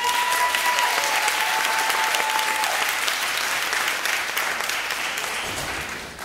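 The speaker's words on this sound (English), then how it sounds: "So give them a round of applause." A room at a school district advisory board meeting breaks into a round of applause, dense and steady clapping that fades toward the end.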